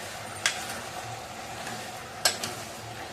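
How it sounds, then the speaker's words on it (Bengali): Paneer cubes with salt are stirred in a pan over a continuous soft sizzle, with two or three brief sharp clicks of the spoon against the pan standing out. "এটা খুব ভালোভাবে নাড়তে থাকবো"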